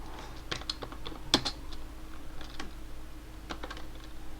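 Light, uneven tapping on a computer keyboard while entering code, heard as soft, close key clicks in short bursts over a faint steady hum, with no talking.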